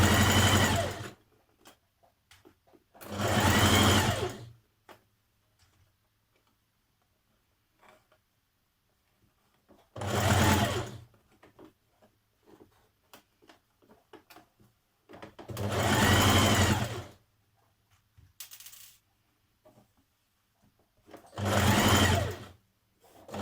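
A sewing machine stitches a seam on a dress in several loud, near bursts of rapid whirring, each lasting one to two seconds, separated by quiet pauses with faint handling sounds.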